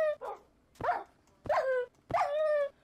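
Dogs in the Minecraft Pixelmon mod on Xbox 360 yelp and whimper as they are hit, four short sharp cries in quick succession, close and loud, each ending in a falling whine.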